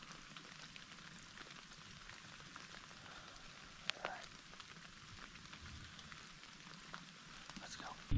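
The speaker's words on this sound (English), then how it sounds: "It's starting to rain out harder" Rain falls harder in the woods during a whitetail deer hunt, a faint, steady patter on leaves and ground with a few louder drops and no talking.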